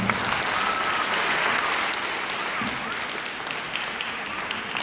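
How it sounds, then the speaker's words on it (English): Steady, dense applause from a school concert audience honoring an absent band director, filling the room evenly for the full length at moderate loudness with faint voices mixed in. "We give him a round of applause, even though he's not here."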